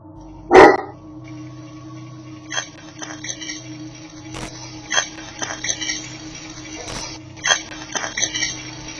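A single loud bark rings out near the start, followed by scattered clinks and knocks over a low steady background hum.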